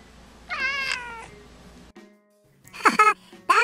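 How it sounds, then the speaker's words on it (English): A cat meows twice, with a quiet gap between; the first meow is drawn out, the second sharper and followed by a short final mew, close and clear. "Do you know what sound a cat makes? Listen."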